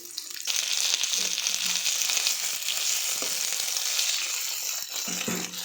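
Onions, tomatoes and green chillies sauté in a hot oiled pan for a fish curry, a loud continuous close sizzle that bursts in suddenly and holds steady, with a few faint stirring knocks beneath.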